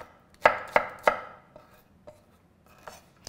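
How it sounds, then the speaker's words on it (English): Knife chopping shallots on a cutting board: three sharp, loud chops in quick succession, then several softer, scattered taps, close by with no talk. "I'll just cut up my shallots."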